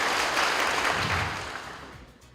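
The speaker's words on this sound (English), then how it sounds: "A round of applause for him." Applause from a school debate audience at a grand final, a dense, steady wash of clapping that fades toward the end.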